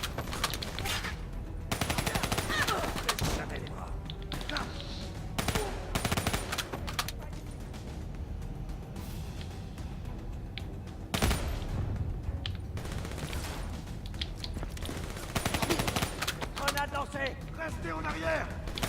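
Gunfire in the Black Ops 3 campaign, with dense bursts of automatic fire and explosions continuing throughout, while someone talks over it.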